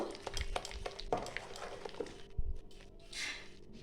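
Wet ground masoor lentil paste with onion being beaten and whipped by hand in a bowl for fritters, making a run of soft, quick slapping and stirring sounds nearby that thin out toward the end.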